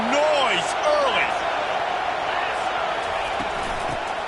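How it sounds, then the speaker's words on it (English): Stadium crowd noise from a Madden football video game, a broad roar of the crowd with rising whoops and shouts near the start, then a steady wash of cheering under commentary-like talk. "This crowd bringing the energy and noise early."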